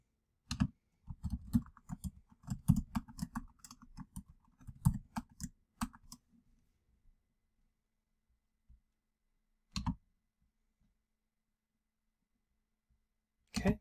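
Fingers typing on a computer keyboard while changing a DrayTek Vigor2960 router password, a quick run of close key clicks for several seconds, then silence broken by two isolated taps.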